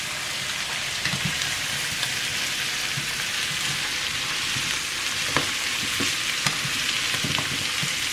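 Pearl onions and mushrooms sizzle in a pan while being stirred, with a close, crackling fry broken by occasional scraping knocks.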